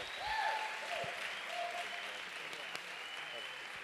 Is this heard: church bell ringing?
no